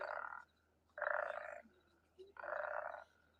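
A frog croaks three times in long, loud, buzzing calls close by, separated by short pauses of quiet background, with no voices.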